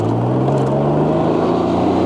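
Can-Am Ryker three-wheel motorcycle riding on the road: a continuous close engine drone with a steady tone that climbs slightly as it accelerates, loud and unbroken with no talk.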